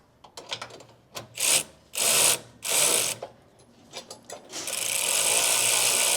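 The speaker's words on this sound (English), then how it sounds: "we want to push up and tighten our step brackets" A hand ratchet tightens step bracket bolts on a 2017-2026 Ford Super Duty pickup during a Torklift Apex tie-down anchor install: quick clicking bursts build into longer ratcheting runs, ending in a sustained close clatter, with no talking.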